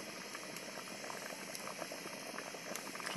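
Khichuri bubbling steadily in a pot, a dense, continuous rolling boil with fine popping and gurgling that stays even throughout.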